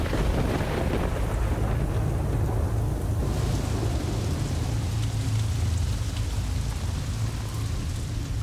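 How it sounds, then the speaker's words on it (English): Heavy rain pours down in a dense, steady roar, with a low rumble of thunder underneath and no voices. "After 8 days of solid rain"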